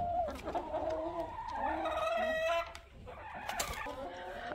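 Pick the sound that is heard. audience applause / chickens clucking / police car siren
chickens clucking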